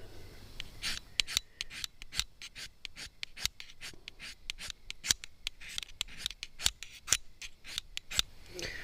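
At a campsite in Lake Maria State Park, shavings are scraped off onto tinder to start a fire. Quick, dry, rasping strokes repeat in an uneven rhythm close by, with no talking.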